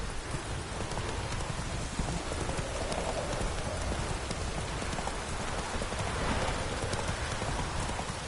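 The horse Roach gallops in The Witcher 3, its hoofbeats drumming rapidly and continuously beneath a broad hiss of rain.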